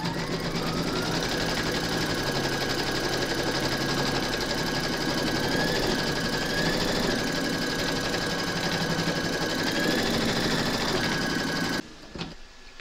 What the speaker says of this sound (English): Pop our hoop into our machine and stitch round number two